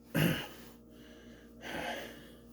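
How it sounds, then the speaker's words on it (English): Heavy breathing from someone out of breath after a walk: a sharp close gasp followed by a slower, softer exhale, with no speech. "I was out of breath from doing that"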